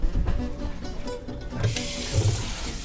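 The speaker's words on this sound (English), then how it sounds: "I need to fill what she says a kettle with hot water" Hot water runs from a kitchen tap into a big cooking pot, a steady continuous splash and rush that holds for the whole stretch with no talking over it.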